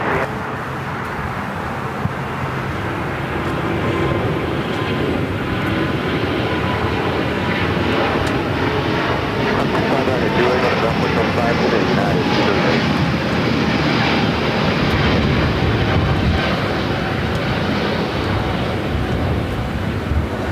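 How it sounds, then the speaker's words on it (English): An Air France Airbus A350-900 takes off at LAX bound for Paris, its engines giving a loud, sustained roar that builds and stays strong throughout, heard alone without voices. "we got that Air France A350-900 heading back to Paris, flight 21. Early rotation as well."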